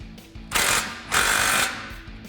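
Power tool bursts while tightening flange bolts on an exhaust pipe during installation of a Roush single exhaust system on a Ford F-150: two loud, steady whirring bursts about half a second each, close by, alone.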